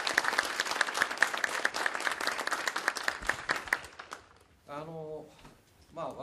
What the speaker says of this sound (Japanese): 拍手でお礼申し上げたいと思います。